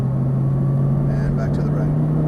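An Audi R8 accelerates on a race track, giving a loud, steady engine drone with an instructor's voice running over it.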